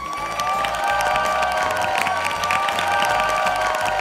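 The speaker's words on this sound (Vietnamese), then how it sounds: "Một tràng pháo tay cho hai bạn nào" A TV game show studio audience applauding and cheering loudly, with continuous clapping and background voices filling a large room.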